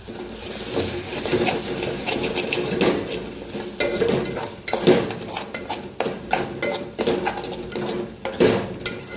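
A spoon stirs ridge gourd curry in a pan, scraping and clinking against the metal in repeated close strokes with bursts of louder knocks, and no voices.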